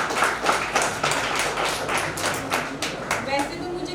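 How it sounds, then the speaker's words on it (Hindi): An audience at a Women's Day award ceremony claps for a woman stepping up to speak, a brisk run of rhythmic claps at moderate distance mixed with voices in the room. "एक बार मैम के लिए जोरदार तालियां हो जाए।"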